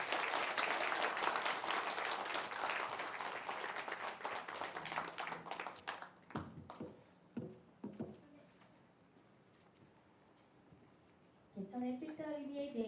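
An audience applauds after a lecture at a Korean cultural festival in Busan, loud dense clapping that tapers off into scattered claps, followed by quiet and then a voice speaking.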